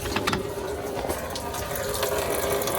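Coolant drains steadily out of the radiator of a 2008 BMW 335xi AWD sedan, a constant close rushing, splashing flow of liquid without a break.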